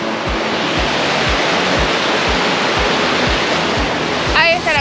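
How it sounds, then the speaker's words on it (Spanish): Steady, loud rush of the Cascada de Francisco waterfall on the Glaciar Huemul trek near El Chaltén, a broad continuous roar with rhythmic low thumps from footsteps close by. A brief voice sounds near the end. "Ahí está la cascadita que sirve para quedarse un ratito y refrescarse."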